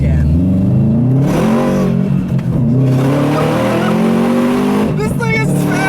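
Subaru WRX with an external wastegate accelerating hard, engine revving loud and close throughout with rising pitch sweeps, then a burst of fluttering wastegate dump near the end; people shout and talk over it.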